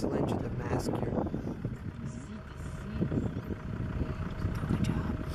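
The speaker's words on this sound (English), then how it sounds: "That's that little diesel engine" A small diesel engine on a safari vehicle idles and rumbles steadily up close, its low drone continuous throughout with some wind buffeting.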